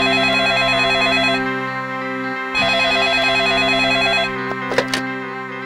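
A telephone rings in two repeated bursts with a short pause between them, clear and fairly loud, during a call being placed to Bapu, followed by a soft thump and a click.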